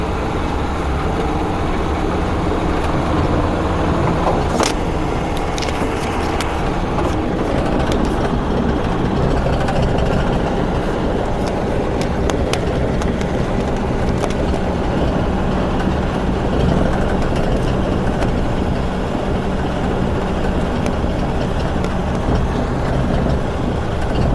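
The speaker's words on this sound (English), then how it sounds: "Try to get the engine down to an idle." A 1972 VW Super Beetle engine runs steadily throughout, a continuous loud rumble with road-like noise and no talk, as if heard from a moving car.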